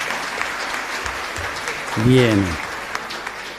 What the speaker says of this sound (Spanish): Un fuerte aplauso para estos jóvenes